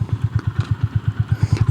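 A Honda GB 350 S motorcycle's long-stroke 350cc single-cylinder engine running, with a steady, even low thumping pulse of rapid firing beats, loud and close with no talk.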